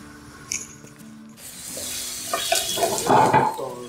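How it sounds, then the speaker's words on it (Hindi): Two large chopped onions go into hot oil in a pan over a lit stove for a samosa filling: a few soft clinks, then a broad hiss that swells into a loud, close sizzle toward the end. "अब इसमें हम 2 बड़े साइज़ के प्याज कटे हुए डाल देंगे"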